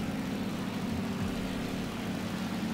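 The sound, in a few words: airplane engine in video game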